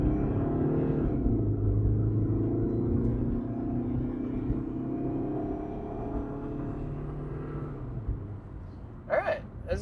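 A sports car engine running as the car is driven, a loud low rumble that rises and settles with gear changes before fading, followed by a few brief knocks near the end.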